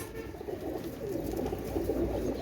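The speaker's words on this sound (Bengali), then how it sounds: "এটা হচ্ছে মহীশূর কবুতার" A Mysore pigeon coos softly and continuously, low murmuring calls close by in a quiet loft, with no talking.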